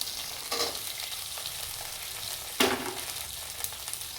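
Cut potatoes being stirred in a frying pan while cooking mung dal with spinach ghonto: a steady sizzle with a couple of louder scraping stirs, close and alone.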